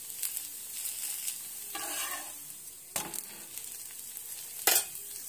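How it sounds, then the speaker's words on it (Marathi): Rava dosa batter cooks on a hot tawa with oil, a soft continuous sizzle broken by a few brief scrapes and stirring clicks, fairly quiet and close, with no talking. "अनेक डोसा मी तुम्हाला तव्यावर बनवून दाखवते"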